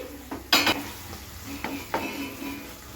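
After the lid comes off, a spoon stirs boiled tender tamarind leaves in a metal pan, giving a few scattered scrapes and clinks over a faint sizzle, close by.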